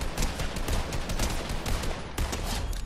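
A gun in Fortnite fires in rapid, loud bursts of sharp shots that overlap into a continuous fusillade.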